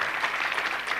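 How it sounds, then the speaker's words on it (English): Audience applause for presenters and staff at the close of a summit day, a dense steady wash of clapping lasting about a second with no voices over it. "So can we have a big round of applause?"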